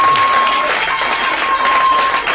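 A loud crowd applauds and cheers for the speaker's mother at a Passover conference, a dense, continuous wash of clapping and voices close to the microphone.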